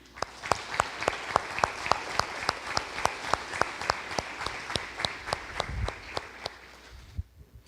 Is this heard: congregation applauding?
yes